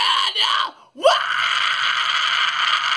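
A harsh, gritty fry scream rings out: two short raspy bursts, a brief breath, then one long sustained distorted scream, loud and close.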